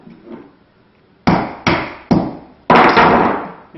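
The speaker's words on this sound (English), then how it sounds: "to get the end off, you need a chisel." A hammer striking a chisel to knock the end off a plantation shutter: four sharp, loud metallic blows spaced about half a second apart, close by, after a quiet lead-in.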